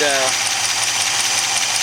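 A restored Studebaker engine idles hot after its first start, a steady close mechanical rumble with a faint rhythmic rattle, while someone speaks briefly at the very beginning.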